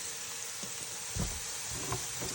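Taro root cooking in a pan with oil and salt on the stove, a faint steady sizzle with a couple of soft low bumps, no talking.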